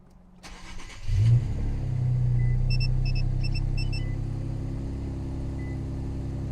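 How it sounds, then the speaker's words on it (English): An Infiniti Q50 engine fitted with custom intakes cranks and fires up, then settles into a loud, steady low rumbling idle with a few faint electronic chimes above it. "I'm finna start the car real quick, and we finna see how this car sounds with intakes"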